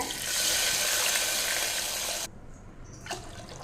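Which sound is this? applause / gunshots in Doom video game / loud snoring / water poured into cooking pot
water poured into cooking pot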